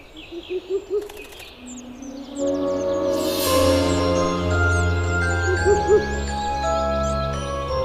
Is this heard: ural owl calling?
yes